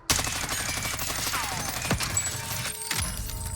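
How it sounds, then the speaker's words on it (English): Rapid sustained automatic fire from an XM4 rifle fitted with a task force barrel in the Warzone video game, a dense continuous burst loud and close with a few metallic clinks. "let's look at the task force barrel in comparison to what we have here already, to see if that really makes a big difference in recoil"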